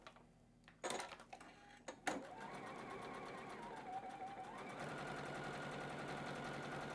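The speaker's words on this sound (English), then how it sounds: "You're just going to come on back to your two squares, fold them over, stitch them together." Sewing machine stitching two folded patchwork squares together, a few sharp starts and stops early on, then a steady close whirring run that continues to the end.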